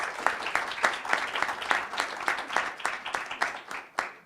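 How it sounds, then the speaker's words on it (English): Scattered applause for competitors at a school poetry recitation event, individual claps clearly separated in an uneven rhythm, modest and fairly quiet from a small audience. "I'd like one more round of applause for all our competitors"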